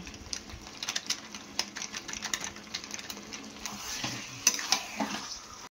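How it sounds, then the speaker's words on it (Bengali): Chicken kosha cooks in a pan with green chilli paste and chicken masala, a steady close crackle of frying with irregular clicks and stirring scrapes, growing a little busier toward the end. "এদিকে দেখো আমার চিকেন কষাটা হচ্ছে"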